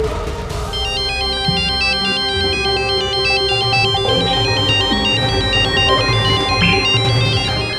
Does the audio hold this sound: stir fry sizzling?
no